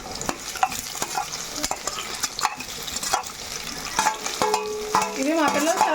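Cut pieces of nalla, a fish fry, stirred and frying in a pan, with a steady close sizzle and scraping stir strokes that grow busier toward the end, no talk.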